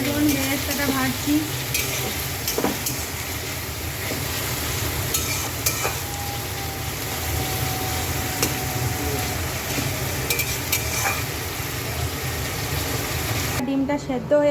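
Onion slices fry in hot oil for chicken biryani with a continuous loud sizzle, occasional spatula scrapes and stirring, and soft talk in the background throughout.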